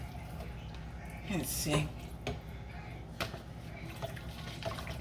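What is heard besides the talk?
beef broth being poured into a pot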